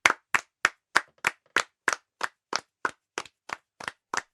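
A small group in a classroom claps in a steady, even rhythm, about fourteen crisp, close claps spaced roughly evenly, with no talking over them.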